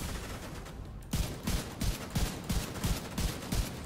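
Rifle gunfire rings out in The Division 2 during a legendary-difficulty New York warlord mission: dense, rapid bursts of shots that pound rhythmically for several seconds after a brief lull.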